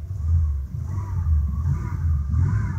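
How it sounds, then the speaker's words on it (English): A 1989 Cadillac V8 engine idles with a deep, throbbing low rumble, steady and close, the beat of the cylinders pulsing evenly throughout. "These V8 engines, man, they really rock the car."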